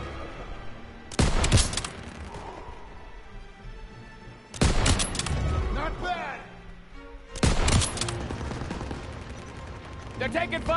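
Three loud bursts of World War II gunfire and explosions from Call of Duty: World War II hit at spaced intervals, each trailing into rumbling echoes, with voices and battle noise in between.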